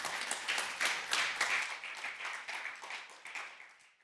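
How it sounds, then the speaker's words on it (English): Audience applause after a conference talk, a burst of dense clapping that peaks early and then tapers off gradually toward quiet. "give a round of applause to Mason."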